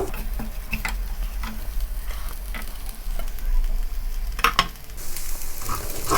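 Sliced onion stir-fried with chicken in a pan for chicken rolls, a continuous close sizzle broken by spatula scrapes and clicks, growing brighter toward the end, no speech.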